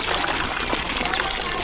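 Water from an outdoor shower at a Thai train station sprays and trickles in a brief, close, continuous rinse, with faint talk-like sounds mixed into the splashing.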